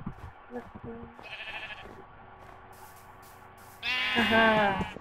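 Sheep in the Minecraft video game bleat twice, a short nasal bleat early on and a louder, longer one near the end, with a person talking in between.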